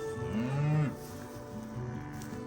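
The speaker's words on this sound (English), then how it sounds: "Fine looking cow." A cow, the matriarch of a farm herd, gives a clear nearby moo that rises and falls, followed by a softer second lowing call, over quiet outdoor background.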